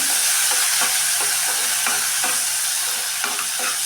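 Rice fries in hot ghee for sweet rice payasa, with a loud continuous sizzle close up and regular scraping stirs repeating roughly every half second.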